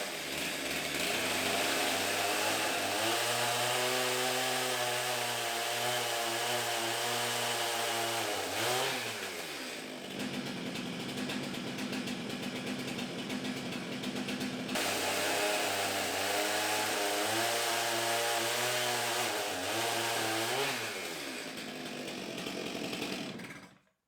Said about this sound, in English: I've got to cut this piece off here with the chainsaw